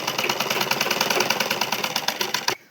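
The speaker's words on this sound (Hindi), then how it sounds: "और अब इस पे लगाऊंगी मैं सिलाई।" A sewing machine stitches palazzo pants with a fast, even mechanical chatter that runs loud and close for over two seconds before abruptly stopping.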